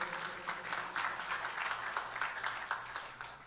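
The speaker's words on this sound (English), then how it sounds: "So a round of applause for him." A crowd at a night-time Devi Yagya gathering claps in a steady round of applause, a dense patter of many hands that fades slightly toward the end.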